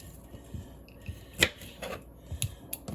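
Ends being cut off broccoli stems, with a few quiet, crisp snipping and cutting clicks, spaced irregularly and close, over a faint background hum.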